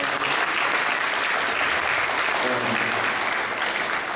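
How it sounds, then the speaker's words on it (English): A school crowd applauds the boys and girls tennis teams, loud, dense and steady clapping filling the whole stretch, with faint voices mixed in. "So I want to just at least give them a round of applause."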